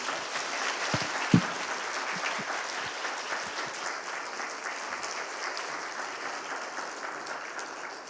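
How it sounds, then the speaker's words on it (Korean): A church congregation applauds during a year-end awards and retirement service, a steady, moderately distant patter of many hands with a couple of sharper claps near the start, sustained throughout. "큰 박수로 격려해 주시고 감사해 주시기 바랍니다"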